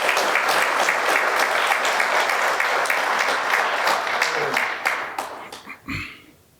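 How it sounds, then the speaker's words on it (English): Large audience at a SECO Energy district meeting applauding the team, dense steady clapping that tapers off and dies away near the end. "if you just give our team one more round of applause"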